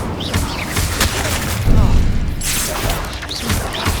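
Spells such as Confringo and Incendio go off in Hogwarts Legacy, producing loud, dense booms and crashing blasts that overlap continuously, with voices mixed in.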